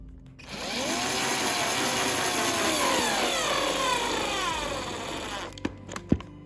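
A cordless drill whirs steadily for about five seconds with a rising and falling pitch while driving a screw, then stops, followed by a few sharp clicks.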